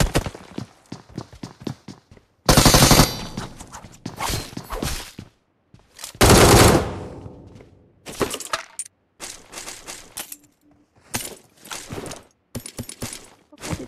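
Gunfire in PUBG Mobile comes as loud, sharp bursts of rapid shots in short volleys, including two long sustained bursts, broken up by brief gaps, with faint footsteps between them.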